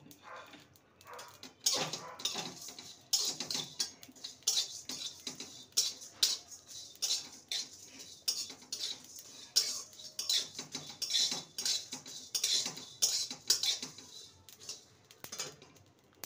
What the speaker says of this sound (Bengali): গোটা জিরে, গোটা ধনে, 5 ফোড়ন আর মৌরি, সমস্ত মশলাকে ভেজে নেব।